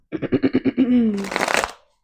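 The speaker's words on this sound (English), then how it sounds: "I'm going to get a few shuffles from my Oracle deck" An oracle card deck is shuffled by hand: a quick run of about eight crisp riffling pulses, a brief smooth slide, then a denser papery burst of cards settling, close and fairly quiet.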